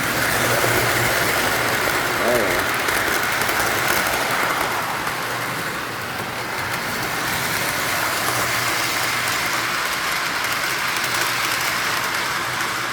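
A model train, a Lehigh Valley engine pulling tank cars and mixed freight, runs steadily along its track with a constant rumbling, clattering drone, close by and continuous, without any talking.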